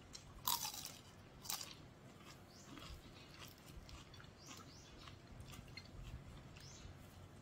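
Crunchy fried food bitten and chewed close up, with two sharp crisp bites early on followed by faint, steady chewing against quiet room noise.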